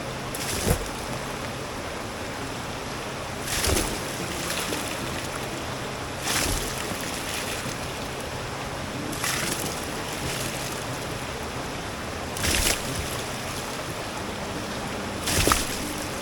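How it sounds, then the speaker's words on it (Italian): Buckets of water thrown into a crack in a boulder, heard as several separate loud splashes spaced a few seconds apart over a constant rushing, watery background outdoors. "poi comincerò a fare le secchiellate d'acqua"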